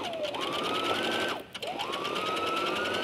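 A sewing machine runs a steady 5/8 inch straight stitch through fabric, its whirring motor rising in pitch, pausing briefly mid-seam, then starting up again and running continuously, close and clear with no talking.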